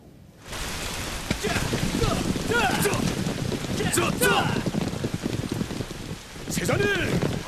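Steady, fairly loud rain hisses through a scene in an animated historical film about Jumong, continuous from start to finish, while voices speak over it.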